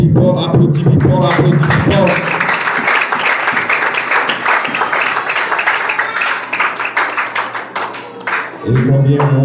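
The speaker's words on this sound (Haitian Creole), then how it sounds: "Applaudis fort." An audience at a revival service bursts into loud, sustained applause that fills the room for several seconds, with a voice speaking just before and right after the clapping.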